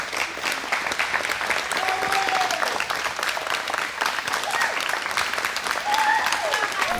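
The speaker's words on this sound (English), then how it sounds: "a slow murmur of clapping begins to lay out through the cosmos" Applause ripples steadily through a large gathering, a dense continuous patter of many hands clapping at moderate loudness for several seconds, with a faint murmur of voices beneath.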